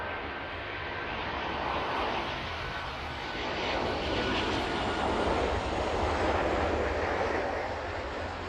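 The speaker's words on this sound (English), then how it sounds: "DHL Triple 7 in front of us now." A DHL Boeing 777 cargo jet passes at East Midlands airport, a loud, continuous engine roar that swells gradually and stays strong to the end, with no voices.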